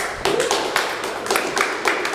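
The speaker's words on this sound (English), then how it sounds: "They're clapping for that?" An audience claps in short uneven bursts, a handful of distinct sharp claps spaced irregularly over a couple of seconds at moderate loudness with no talk on top.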